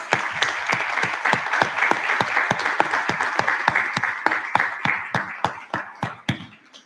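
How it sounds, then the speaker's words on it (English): Audience applause at a charter school district board meeting for departing staff, loud sustained clapping with distinct sharp claps punctuating the crowd, tapering at the end. "Let's give them a round of applause."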